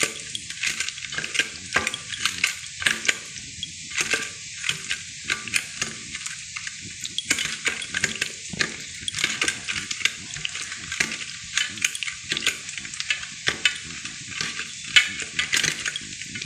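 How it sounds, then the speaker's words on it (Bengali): Fish masala being mixed with ginger paste and mustard oil for pomfret fry, a steady run of close, wet stirring and scraping scrapes with sharp clicks, no voices. "এবার ভালো করে মশলাটা আমরা এটা মিক্সড করে নেব।"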